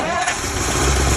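A Ford Thunderbird engine cranks and catches in a dense, steady mechanical roar that fills the whole short moment, up close and loud, with low rumble building toward the end.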